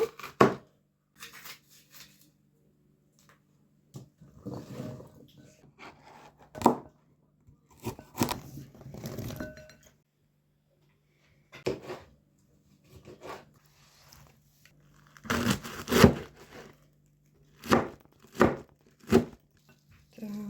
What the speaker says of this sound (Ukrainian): починаю нарізати у довільній формі. Е, перець спочатку.